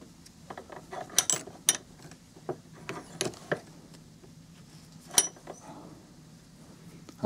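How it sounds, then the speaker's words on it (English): Small metal rifle screws from a vintage .22 are set into a bench vise, giving light clicks, taps and a short ratcheting rattle, close and fairly quiet, with scattered pauses between the sounds. "what I like to do is just put them in a vise here"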